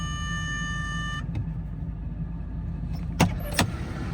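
A 1987 Jaguar XJ6 Vanden Plas idles steadily after starting, a low even engine hum throughout with a few brief clicks and a high electronic tone that stops early.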